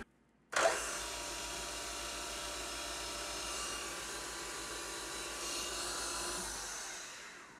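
A steady, high-pitched whine of a drill boring into material to make desoldering tips starts abruptly and runs continuously at an even, close level until it drops off at the very end.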